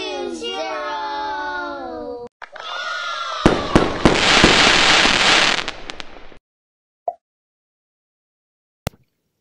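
A burst of animated fireworks effects in a children's times-tables learning piece, dense crackling bangs for a few seconds, then two sharp isolated pops with silence between, after a child-like voice.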